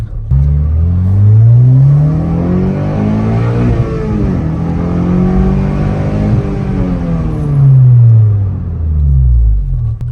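A 9th-generation Honda Civic Si with a big brake kit accelerates hard in a long pull, the loud engine note climbing steadily through rising revs with a brief shift dip midway before building again.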